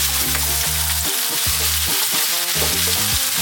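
Lentils frying on lively heat in a pan for restaurant-style dal, a loud close sizzle broken by repeated rhythmic scraping strokes of frequent stirring.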